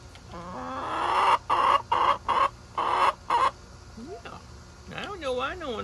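Backyard chickens cluck in short loud bursts, several close together, then softer warbling hen calls follow while someone talks nearby.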